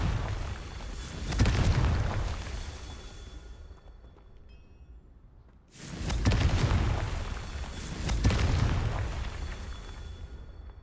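Two loud explosive spell blasts from the Confringo curse in Hogwarts Legacy, each a broad booming burst with a rumbling tail, the first fading into near silence before the second erupts with sustained roar and a further swell.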